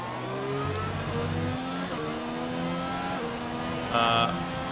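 A racing car in an Xbox racing game at Zandvoort revs its engine hard with tyres spinning, a steady mid-pitched engine drone whose pitch shifts up and down, with a brief louder burst near the end.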